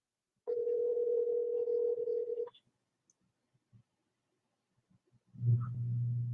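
A steady telephone dial tone drones for about two seconds, then cuts off; after a quiet pause with faint clicks, a lower buzzing tone starts up.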